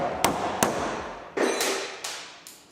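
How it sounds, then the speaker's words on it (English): Several sharp hammer blows on metal of a 1979 Chrysler Cordoba at an uneven pace, with a brief squeal of something being pried loose with a pry bar between strikes. "Why, with a pry bar and a hammer, of course."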